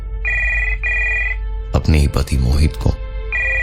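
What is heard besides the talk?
telephone ringing, intercom phone call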